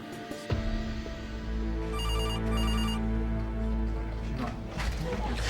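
A telephone rings with a bright electronic ringtone in bursts of repeated tones, loud and close over a steady background hum, in an outback hospital emergency department.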